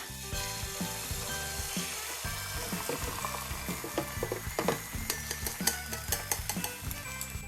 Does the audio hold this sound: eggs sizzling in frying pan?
yes